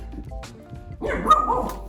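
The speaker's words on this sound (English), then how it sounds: "That's my dog." A dog barks once, close and fairly loud, after a moment of quiet room sound.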